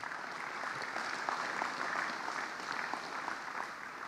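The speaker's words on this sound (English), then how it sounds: "Can we please give Andrew a massive round of applause?" Audience applause at an agricultural spray forum session: a modest crowd claps steadily for about four seconds, fairly faint and distant, with no talking over it.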